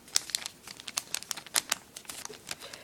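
Paper creased and folded by hand while making an origami swan: a quick series of crisp crinkles and snapping taps, close and fairly quiet, with no talking.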